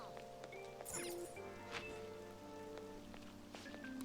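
Soft, steady rain falls in the Persona 5 Royal video game, a continuous light patter running under game music and interface chimes throughout.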